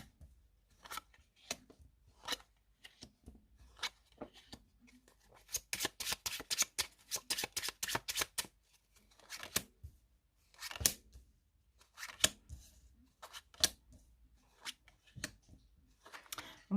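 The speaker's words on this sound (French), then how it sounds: "je vais poser 7 cartes pour commencer et ensuite j'en poserai 6" Playing cards from a 32-card deck are handled and laid down one after another, producing soft close snaps and slaps, with a quick burst of rapid riffling flicks in the middle, all quiet and with no talk.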